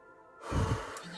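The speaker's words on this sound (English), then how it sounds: "Take a deep breath." A slow, deep breath in and out, soft and close, swelling through the middle and then easing off as a gentle exhale in a quiet, calm setting.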